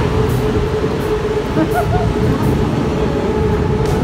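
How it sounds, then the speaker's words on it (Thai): A train rumbles past at close range in Thailand, a loud, continuous roar and rattle of wheels on rails that holds steady throughout, with faint squeals over the din. "รถไฟมาแบบตามกันกระชาก"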